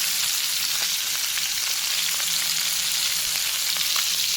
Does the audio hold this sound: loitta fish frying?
yes